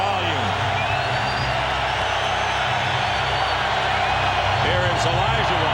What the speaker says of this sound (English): the crowd turning up the volume